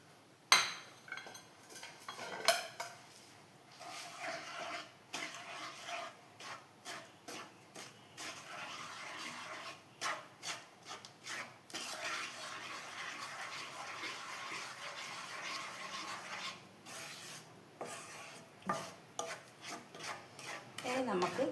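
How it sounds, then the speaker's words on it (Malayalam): Grated coconut being mixed by hand into a beaten rice (aval) laddu mixture in a bowl: soft scraping and rubbing strokes with occasional clinks of a utensil, close and quiet, repeating unevenly with no speech. "എന്നിട്ട് ഇതെല്ലാം കൂടി ഒന്ന് ഞാൻ മിക്സ് ചെയ്യാം"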